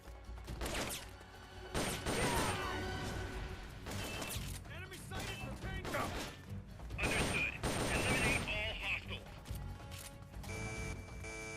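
Gunfire breaks out during a firefight in a Metal Gear Solid game: repeated bursts of shots and clanking impacts come in uneven clusters, mixed with in-game voices and a person talking.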